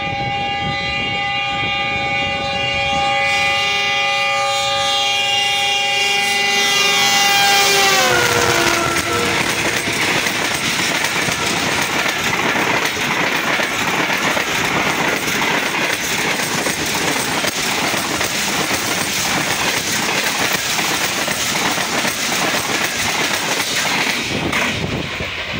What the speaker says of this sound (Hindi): कंटिन्यूसली जो है वो विसलिंग हो रही है और सामने से कराची एक्सप्रेस GU40 की लीड के साथ